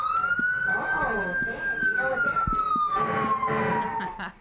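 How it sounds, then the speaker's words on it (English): A fire truck siren wails, slowly rising and fading at a fair while people talk over it, with clattering, bustling background noise. "And we've got a siren"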